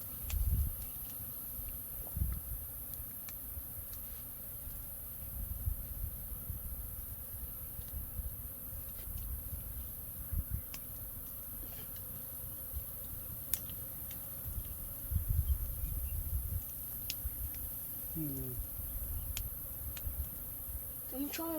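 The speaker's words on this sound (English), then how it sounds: "You can hear all the bees, man, freaking out." A colony of bees hums inside a hive in the hollow of a baobab tree: a continuous, close buzzing drone with faint rustling and occasional light knocks throughout.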